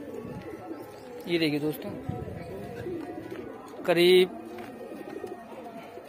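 Highflyer pigeons, among them red Amritsar birds in a loft of around 150 to 200, give two short, throaty coos close by while someone talks over them.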